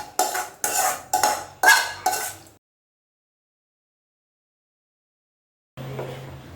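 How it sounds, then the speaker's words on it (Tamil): Fried tempering is spooned from a metal pan into peanut chutney, making five quick, loud scraping and clinking strokes in a row. Silence follows, then a fainter low rumble returns. "இப்போ வறுத்து வச்சுருக்கேன் தாளிப்பு ஐட்டத்தை நம்ம சட்னியில் சேர்த்துக்கோங்க"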